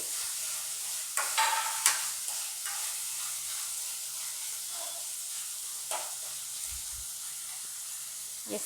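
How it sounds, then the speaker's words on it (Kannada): Poha seasoning frying in a pan for a soft thick-poha breakfast dish, a steady close sizzle with occasional stirring scrapes, no voices. "ಇದು ಫ್ರೈ ಆಗ್ತಾ ಇದೆ, ಸ್ವಲ್ಪ ಹೊತ್ತು ಚೆನ್ನಾಗಿ ಫ್ರೈ ಆಗ್ಲಿಕ್ಕೆ ಬಿಡೋಣ"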